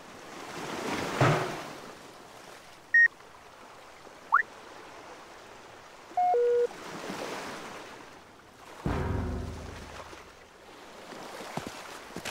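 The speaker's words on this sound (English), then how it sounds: "Listen to the sounds of the waves breaking on the Yomaritan shore while you slumber." Soft waves wash onto a shore in slow, faint swells heard from a camping tent, with a few brief electronic chirps and beeps scattered over the gentle surf.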